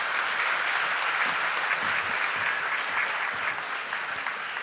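A church congregation at a Full Gospel Wednesday worship service gives sustained applause to welcome denomination leaders to the stage, a broad, even wash of clapping with no talk.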